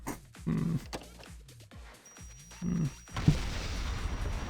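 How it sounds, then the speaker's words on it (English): A loud, deep explosion bursts out of Blue Archive gameplay during a runaway train event. It lands as a sudden heavy boom followed by a sustained rumbling roar, with earlier thumping impacts leading up to it. "That sounded like an explosion."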